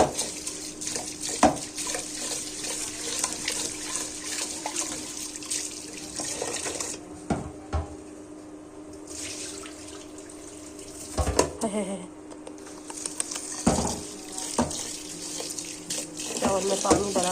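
Tap water runs steadily into a kitchen sink while rice is washed by hand, a continuous splashing rush that briefly drops away twice as the pot is moved, with light clinks of the vessel.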